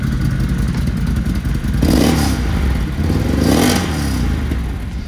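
A 2025 Can-Am Renegade XMR 1000R ATV engine runs loud and steady up close, swelling in two throttle blips as it is revved, with no talking.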